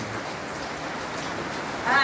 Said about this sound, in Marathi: पाऊस खूप चालू आहे